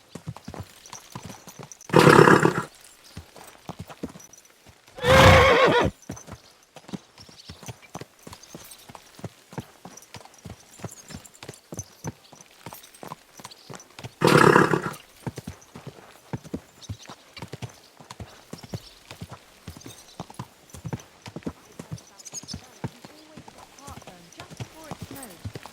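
Horse hooves clip-clopping in the medieval game Kingdom Come: Deliverance 2, a long, steady run of evenly spaced hoof falls close by, broken by a few louder bursts of whinnying or snorting.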